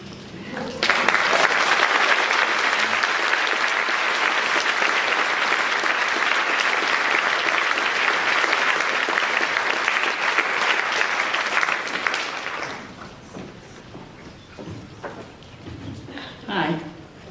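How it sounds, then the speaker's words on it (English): An audience at a book awards ceremony breaks into loud, sustained applause with some cheering for about twelve seconds, then the clapping fades and a few scattered sounds and voices follow. "let's take a moment and cheer on all the fringe people"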